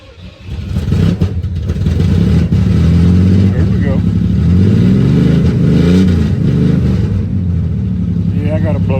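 A Chevrolet S10 pickup with a freshly rebuilt carbureted engine and a blown muffler is started and revved hard, a loud rough roar that swells and falls in repeated surges while voices talk over it.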